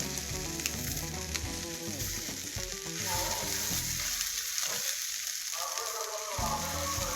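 Green tomato fries in a hot, slightly scorched wok with a loud, continuous sizzle, broken by scraping and clinking as it is stirred.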